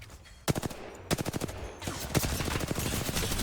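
Rapid bursts of automatic gunfire from the video game Apex Legends, a quick volley followed by sustained rattling shots over game effects, loud and close.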